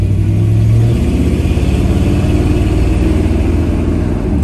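A 1960 Chevrolet Bel Air engine pulls steadily while driving through the gears, a loud, close, continuous low rumble with an even pulsing drone and no talk.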